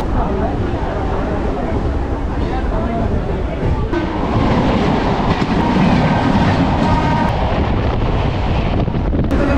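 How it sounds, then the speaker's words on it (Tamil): Chennai suburban electric train running between Pallavaram and Chromepet stations, a steady loud rolling rumble with faint clickety-clack and wind buffeting throughout, close and continuous. "இப்போ ட்ரெயின் குரம்பேட்டை ரயில்வே ஸ்டேஷன் வந்திருக்கு."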